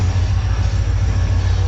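An express train hauled by locomotive HM 38220 pulls into Kotri Junction, a loud, steady low rumble of engine and wheels that holds unbroken throughout with no voices.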